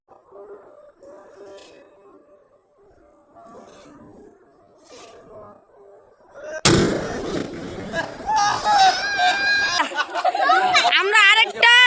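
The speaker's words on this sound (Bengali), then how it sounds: "আমরা আরেকটা চকলেট বোম ফাটাইছি" Chocolate bomb firecrackers burst at a New Year celebration: quiet chatter and distant pops, then a sudden loud nearby blast followed by crackling, screeching bursts and shouting voices that continue to the end.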